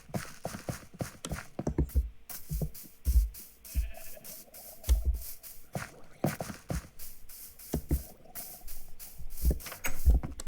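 Sheep in Minecraft bleat in short, repeated calls mixed with clopping footstep-like thuds, moderately loud and close, with no talking.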